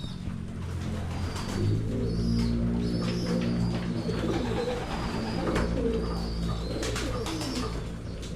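Pigeons coo repeatedly close by, soft rolling calls overlapping in a steady chorus, with occasional higher chirps from other birds.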